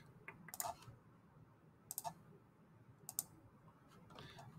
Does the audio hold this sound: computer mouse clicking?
yes